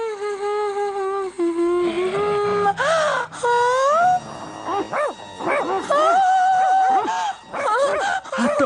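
Cartoon ninja Hattori imitates a dog with a string of whining, yipping barks and moans, wavering in pitch, loud and close with short gaps between calls.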